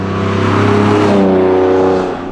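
Lamborghini Diablo VT sports car engine, a steady loud revving drone with strong low harmonics that rise in pitch, close by and alone with no talk.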